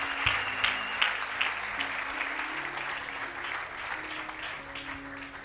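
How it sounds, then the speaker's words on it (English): A church congregation applauds a choir, a broad sustained wash of clapping from a large crowd lasting several seconds, with low background tones underneath and no clear talk. "Clap for choir."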